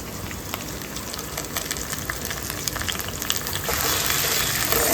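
Garlic and curry leaves sauté in hot oil in a pan, a steady close sizzle and crackle that swells louder near the end, with no talking.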